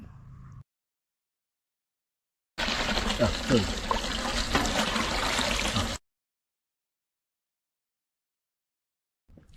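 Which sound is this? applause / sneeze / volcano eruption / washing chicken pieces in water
washing chicken pieces in water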